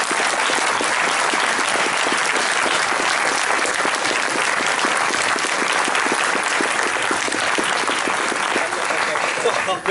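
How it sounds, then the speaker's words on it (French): A large audience claps loudly and continuously to honour a man named Jean-Louis Le Breton, producing a dense, sustained roar of hands that stays at full strength throughout. "Je vous demande d'applaudir très très fort Monsieur Jean-Louis Le Breton."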